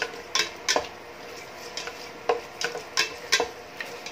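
Tomatoes cooking down in a pan for kinamatisang manok, stirred with a utensil, giving a series of scraping, clinking strokes in an irregular rhythm over a faint, steady sizzle, close and fairly quiet.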